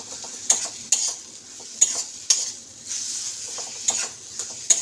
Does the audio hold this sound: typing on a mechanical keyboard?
no